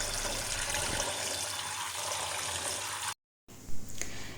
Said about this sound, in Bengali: পাতিলগুলো এখন ওয়াশ করে নেব